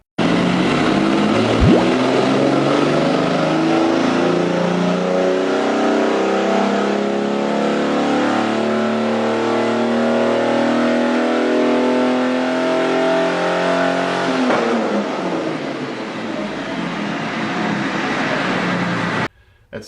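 A turbocharged Ford Mustang running on a dyno, its engine held loud and steady through a long hard run with layered exhaust roar, easing off near the end before cutting out.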